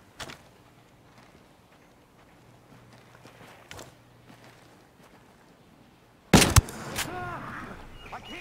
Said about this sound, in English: Gunshots in the area.